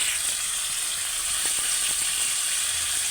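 Tomatoes and tamarind frying in oil give a continuous, loud, close hiss and crackle with no talk over it.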